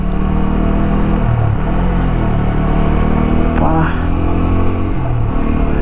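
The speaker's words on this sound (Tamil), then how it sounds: "You feel that engine sound." A regular motorcycle's engine drones steadily on a hill ride to Kolli Hills, a loud close rumble that shifts pitch slightly as throttle changes, with a brief voice over it.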